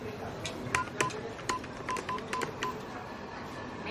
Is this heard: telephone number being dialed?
yes